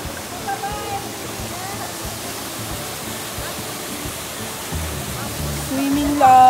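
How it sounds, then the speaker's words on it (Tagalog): A waterfall where a family is swimming roars as a broad, steady wash of rushing water, loud and close, while voices talk faintly underneath. "nandito na kami ngayon sa talon"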